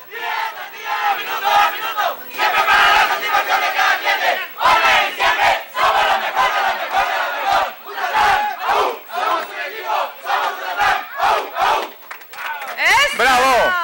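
A crowd at a live event cheers and shouts in loud, repeated waves, with brief dips between bursts of voices.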